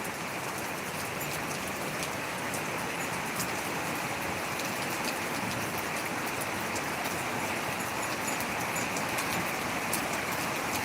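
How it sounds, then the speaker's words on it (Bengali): Heavy rain pours steadily in a garden with potted zinnias and adeniums, a dense unbroken hiss that stays constant throughout, with no voices. "প্রচুর পরিমাণে বৃষ্টি হচ্ছে"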